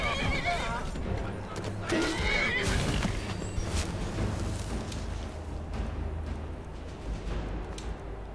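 A horse neighs loudly in Skyrim, with a whinny early on among hoof clatter and rumbling game ambience that carries on to the end.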